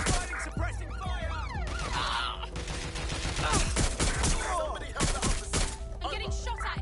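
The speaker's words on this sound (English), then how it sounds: "I'm getting shot at here." Gunfire erupts during a police vehicle chase in the Watch Dogs video game, with bursts of shots, thuds and crashes layered over game music and effects throughout.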